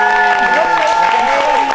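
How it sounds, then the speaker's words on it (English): Studio audience applauds at the close of a late-night talk show segment, a dense, steady wash of clapping that holds loud and even throughout, with a voice faintly over it. "Let's clap it up one more time for Miss Tatiana of StudioPinkATL."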